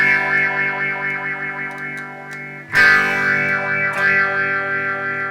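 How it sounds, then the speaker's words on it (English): An electric guitar runs through the phaser of a Mooer Black Truck multi-effects unit, playing sustained chords with a sweeping, swirling tone, then a fresh strum partway through rings on loudly with no talking. "And then finally the phaser."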